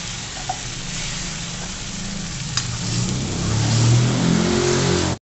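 Ground masala paste sizzles in hot oil, a steady close frying hiss that grows louder and fuller partway through, then cuts off abruptly.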